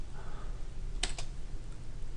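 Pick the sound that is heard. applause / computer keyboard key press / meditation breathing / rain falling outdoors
computer keyboard key press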